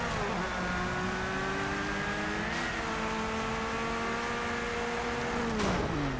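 A Peugeot 205 T16 rallycross car in a racing video game, its engine droning loud and steady with rising and falling pitch as it accelerates and shifts gears, no talking over it.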